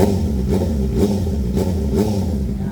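A motorcycle engine fitted with an Ixil full exhaust is held at about 2,500 RPM, giving a steady, loud, close rumble with slight rhythmic pulses throughout and no talking.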